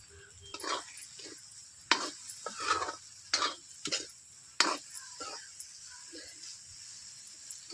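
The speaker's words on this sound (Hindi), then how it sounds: "ये कटा हुआ बैगन है तो इसे भी डाल देती हूँ" Chopped eggplant sprinkled with salt fries in a pan, with a soft sizzle underneath and repeated sharp scrapes and clatters from stirring, some close and loud, arriving in uneven bursts.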